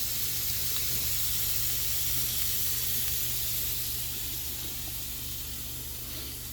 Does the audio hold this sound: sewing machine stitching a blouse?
no